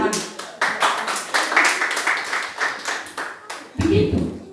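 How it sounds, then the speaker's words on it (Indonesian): A church congregation claps hands in a brisk, fairly regular rhythm of sharp slaps, loud and close, ending with a brief louder burst of noise at the close. "Tepuk tangan untuk Tuhan."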